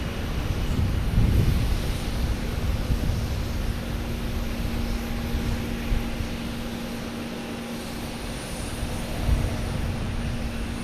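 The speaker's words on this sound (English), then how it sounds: "Next to take off should be a JetBlue heading to San Francisco, an A321, flight 733" A JetBlue Airbus A321 jet taking off at Boston Logan Airport, a loud continuous engine roar with rumbling low end and wind buffeting on the microphone, steady for about eleven seconds.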